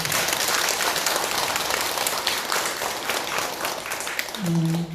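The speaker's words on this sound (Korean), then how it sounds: "큰 박수 한번 부탁드립니다" An audience claps at a Buddhist meditation Dharma service, a steady, full round of applause that continues throughout, with a brief tonal hum rising near the end.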